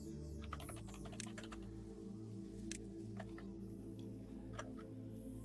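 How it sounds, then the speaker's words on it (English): Computer keyboard typing in quick irregular bursts of clicks, faint and a little distant, over a steady low hum. "those keyboard sounds are probably not me"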